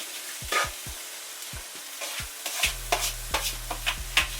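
Onions, peppers and okra frying in a pan with kale added on top, a light sizzle broken by sharp stirring clicks and scrapes, then a low steady hum under continued stirring.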